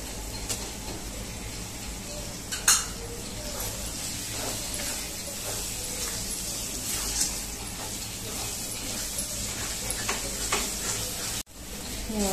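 Capsicum frying in a pan for pav bhaji, a soft, steady sizzle with occasional small clicks, one sharp knock early on and a brief dropout near the end.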